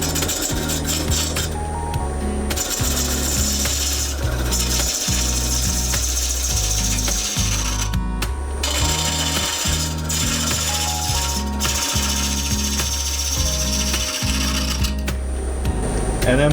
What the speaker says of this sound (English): I'm going to start with a pull cut